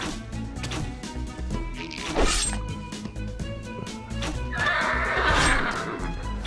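A horse whinnies loudly in the video game CastleStorm over clattering game sound effects, with crashes and thuds around it and a second rising neigh later.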